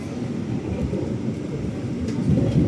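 Steady low rumble inside a Bima Trans Jaya passenger carriage on the Parahyangan train, a constant muffled rolling drone with faint rattles and no talk.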